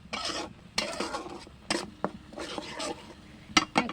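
Spice pastes being mixed with salt, turmeric and chilli for a spinach, potato, pumpkin and fish curry: scraping stirring strokes in bursts with short gaps and a few sharp utensil clicks, close and moderately loud.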